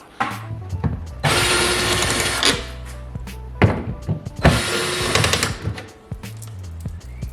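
A power driver backs out T15 screws around a trim panel on a C8 Corvette, running in two long whirring bursts separated by short clicks and handling noises, close up with no talking.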